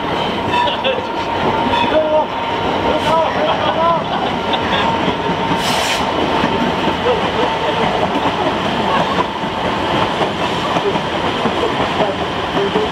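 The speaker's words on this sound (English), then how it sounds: "How long is this train?" A long train rolls past on the railway, producing a loud, continuous rumble and rattle of wagons close by that holds steady throughout.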